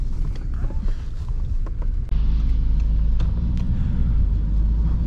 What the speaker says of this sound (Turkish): Bugün Passat'la bir sürüş yapalım istedim.